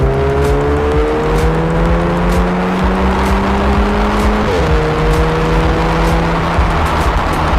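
Volkswagen Mk6/Mk7 GTI hot hatch driving, its engine note climbing steadily through the revs before a quick gear change and another rising pull, loud and close with no talk.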